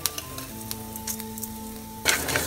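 Cumin seeds crackle in hot sesame oil with a soft, even sizzle and a faint hum beneath it, then a sudden louder burst of spitting near the end.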